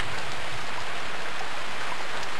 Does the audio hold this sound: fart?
no